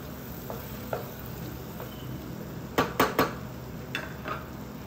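Mutton roasts in masala in a pan, with a low continuous sizzle. A few sharp spoon-against-pot clanks are stirred in near the end, close and moderately loud.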